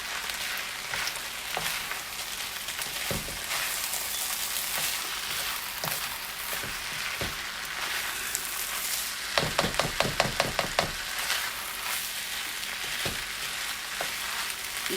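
Chopped vegetables for Chinese-style veggie fried rice fry in a hot pan with a steady, loud sizzle, broken by clattering strikes of a utensil against the pan, including a quick burst of rapid taps midway.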